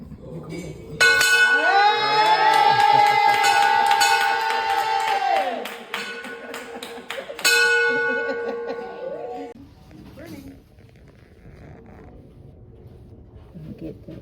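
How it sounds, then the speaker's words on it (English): A handheld bell rung in celebration at the end of chemotherapy, two long bursts of bright, sustained ringing close by, with laughter and clapping under and after it. "I'm ringing this bell in celebration of that."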